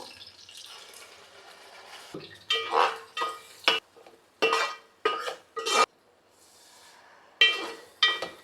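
A spoon stirs masala frying in oil with curry leaves and coriander in a pan for natukodi pulusu, giving a series of short, separate scraping and clattering strokes against a quiet background.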